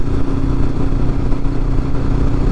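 Honda CB500X motorcycle riding toward Mount Mitchell in North Carolina, its steady engine drone and wind rush loud and close throughout, with no talking.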